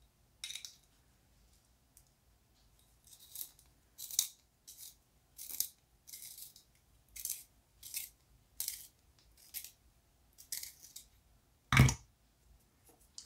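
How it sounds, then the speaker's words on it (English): A split colored pencil is cranked in a small sharpener, producing a series of short scraping bursts at an uneven pace, with one sharper knock near the end and no talking. "This is one of those pencils that has a split right up the side, so it doesn't like to sharpen very good."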